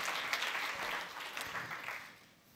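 Crowd applause and cheering from a conference audience in a hall, a dense continuous clatter of clapping with whoops, steady then fading out near the end.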